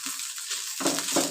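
Potatoes and onions frying in a pan, a steady hiss of hot oil that grows louder with a couple of stirring scrapes toward the end; brief and without voices.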